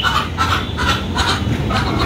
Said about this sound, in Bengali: মোরগ মুরগি কি ডাকাডাকি শুরু করেছে